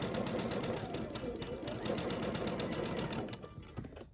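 A sewing machine runs steadily for about three and a half seconds, stitching a block for a Tula Pink butterfly quilt, its rapid even needle rhythm close and clear before slowing and stopping near the end.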